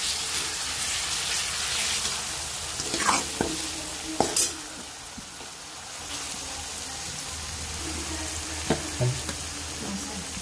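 Green chili and ginger-garlic paste frying in oil for mutton, a soft steady sizzle with occasional scraping stirs and clinks of a spoon against the pot, close by and moderately loud.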